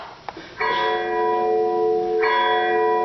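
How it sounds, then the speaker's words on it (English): A bell rings out as an alarm in a staging of Macbeth, two bright sustained strikes that each sound and then ring on loud and steady, with no talking. "Ring the alarm bell!"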